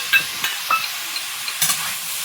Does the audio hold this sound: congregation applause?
no